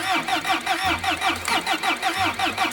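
An old, cheap wrecked car's engine labors in quick, even pulses that repeat about a dozen times in under three seconds, loud and close, as the driver tries to get it going.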